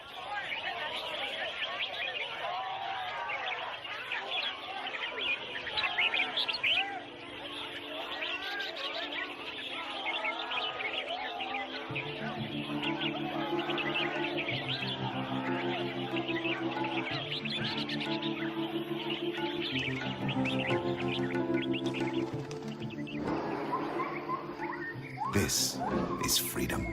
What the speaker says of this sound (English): here participating in a bird singing competition